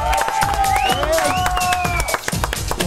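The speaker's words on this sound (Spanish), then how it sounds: "Señoras y señores, el aplauso para Romina Sáez y François Perrot." Audience applause and cheering on a Spanish-language TV show, with loud dense clapping mixed with whistles and excited shouts, plus voices calling out over the crowd.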